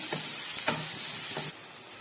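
Steady sizzling of onions frying in hot oil, a constant crackling hiss with occasional soft stirring scrapes, close and fairly loud, no voices.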